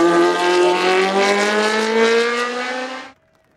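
A Martini MK43 race car on a Saint-Gouëno hillclimb course gives a loud, close, high-revving engine wail held steady for about three seconds before cutting off abruptly into near silence.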